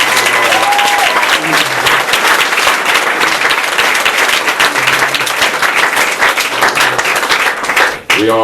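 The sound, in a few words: audience applause for Katherine Albrecht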